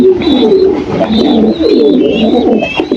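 Pet pigeons coo in soft, rolling repeated calls, close and continuous, with several overlapping birds and faint higher chirps, and no speech.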